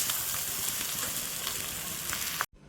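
Grated carrot fry cooking uncovered in a pan, a steady close, loud sizzle with faint stirring scrapes that cuts off abruptly at the end.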